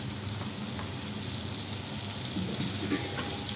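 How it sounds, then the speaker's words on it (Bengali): Potatoes fry in a pan with a steady, soft, continuous sizzle that stays close and even throughout, with no talking. "এই আলুটা একটু ভাজা হোক"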